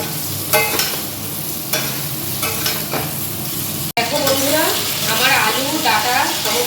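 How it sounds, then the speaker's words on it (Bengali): Drumsticks and potatoes fry together in a pan, a loud continuous sizzle broken by repeated scraping stirs close by, with no talking. "এবার এগুলোর সাথে একসাথে ভেজে নেব"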